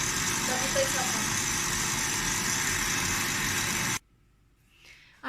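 Electric mixer whisking eggs at medium speed for a walnut cake, a steady loud motor whir that runs for about four seconds and then cuts off abruptly, leaving near silence with a faint clatter.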